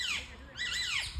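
Two loud, harsh squawks from a parrot pair at a zoo, with a short gap between calls against a faint outdoor background.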